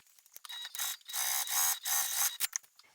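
Sewing machine running a basting stitch through fabric, a whirring mechanical rattle in several close bursts separated by short pauses, with no talking.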